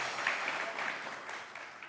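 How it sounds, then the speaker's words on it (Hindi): Studio audience applause on a TV comedy show set, a steady, even wash of clapping held at constant level for about two seconds, with no distinct voices on top. "3 सेकंड कम तालियां बजाई आपके लिए इन्होंने"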